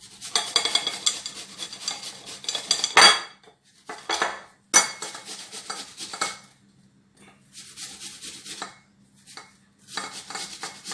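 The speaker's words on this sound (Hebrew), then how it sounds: "אם לא, אפשר לקחת תפוח איכשהו, ומגרדים אותו. אני מגרדת אותו." An apple is rubbed by hand against a metal grater in a kitchen, producing bursts of rasping, scraping strokes with brief pauses and a few sharp metallic knocks, close and fairly loud, with no talking.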